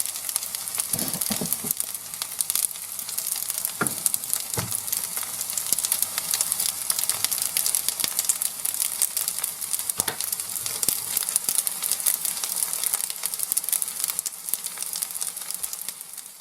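Meat cutlets fry in a pan with a steady, close hissing sizzle and scattered pops and crackles throughout, with no one talking.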